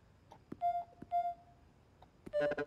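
Keypad keys on a door panel in Spider-Man 2 sound short, clean musical beeps at different pitches, three separate tones pressed one at a time with brief clicks between them.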